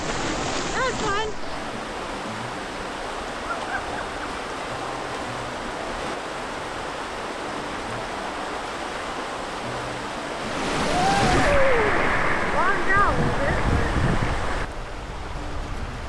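Rushing creek water as a Ford F350 4x4 truck camper fords the stream, a continuous loud churning wash with a surge of heavier splashing partway through and brief voices calling out over it.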